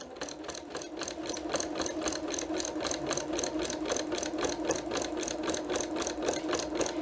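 A sewing machine runs steadily, stitching fabric for a place mat in a rapid, even rhythm of needle strokes that continues without a break and stays close and clear.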